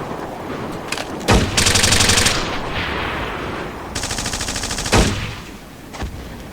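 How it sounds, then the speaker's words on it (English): M4 rifle gunfire from a Ghost Recon Wildlands sound mod, with bursts of automatic fire and sharp single shots in a tactical shooter game, loud and close over a noisy combat background, without speech. "I like the sound of the M4s."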